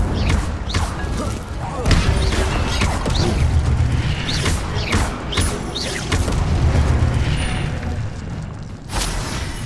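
An Incendio fire spell is cast in Hogwarts Legacy, bursting with a whooshing, crackling blast amid repeated thuds and impacts, loud and close, over a busy layer of game sound and effects.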